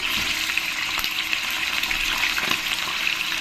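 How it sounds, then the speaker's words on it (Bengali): Chicken pieces fry in very hot oil in a pan for a curry, giving a steady, dense, loud sizzle that runs unbroken throughout, close and with no pauses. "চিকেনটাকে আমি এখন ফ্রাই করে নেবো তেলটা খুবই গরম"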